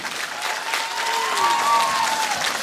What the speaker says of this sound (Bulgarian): Аплодисменти за Танцов клуб Тошевци